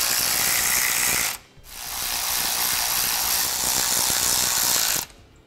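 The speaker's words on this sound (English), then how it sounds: "Now we'll snug down each of our bolts to take out most of the slack" A ratchet snugs down the clamp bolts of a Roadmaster rear anti-sway bar on a 2016 Ford E-Series, giving two close, loud runs of rapid, even clicking separated by a brief pause.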